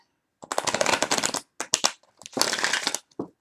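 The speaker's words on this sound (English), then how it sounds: "Get another shuffle on this." A deck of cards is shuffled for a tarot reading in quick crisp bursts, riffling and snapping in two main runs with short pauses between.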